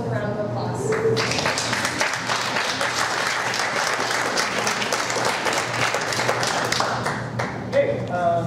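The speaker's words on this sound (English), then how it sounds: "Let's welcome Will with a round of applause." A conference audience applauds a speaker being welcomed, a dense, steady wash of clapping that lasts about eight seconds at moderate level before fading.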